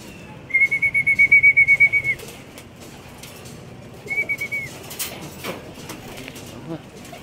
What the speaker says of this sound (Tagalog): dumating na yung ibon natin